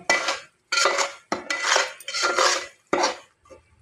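A metal utensil scrapes and clinks around a pan as prasad for a Satyanarayan puja is stirred, in five or six close, loud strokes with short pauses between them.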